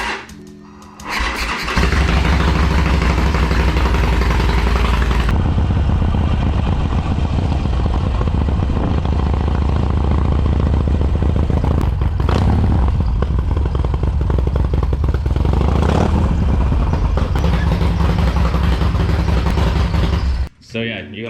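A Harley-Davidson Sportster motorcycle, in neutral before an oil change, fires up after a brief pause and settles into a loud, steady, close rumbling idle for nearly twenty seconds before shutting off.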